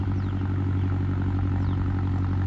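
A tractor engine idles steadily and close by with a low, even rumble and a mechanical throb. The running tractor has a damaged spring and keeps stalling when its implement digs in on roots.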